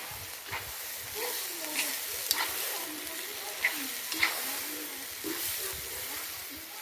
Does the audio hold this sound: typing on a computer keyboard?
no